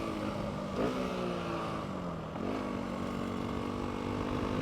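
A dirt bike held in third gear at constant throttle on a dirt trail gives a steady, close engine drone. The pitch dips briefly twice but otherwise stays even, with no voices.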